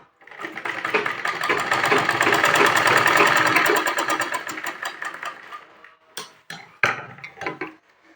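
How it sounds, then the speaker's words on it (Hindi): A sewing machine runs close and loud for a few seconds, stitching the folded hem of a pant with a rapid rhythmic clatter, then slows and stops, leaving a few sharp taps and handling knocks. "फोल्ड करने के बाद इस तरीके से हम कर लेंगे सिलाई।"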